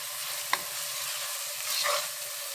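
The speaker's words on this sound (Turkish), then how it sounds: "Malzemelerimiz biraz yağda kızarana kadar karıştıralım arada bir." Steady sizzling of onion, garlic and red and green peppers frying in oil, with a sharp clink of a utensil stirring the pan partway through, no voices.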